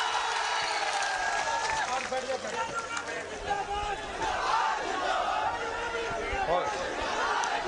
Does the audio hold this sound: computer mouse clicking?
no